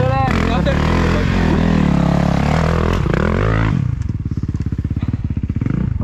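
A Yamaha motorcycle engine choking with carburetor trouble, running loud and rough up close, then dropping to an uneven, pulsing putter while people talk over it.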